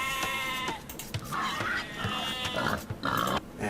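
Sheep bleat in a medieval real-time strategy game. Several short nasal bleats repeat through a busy mix of game sounds and clicks.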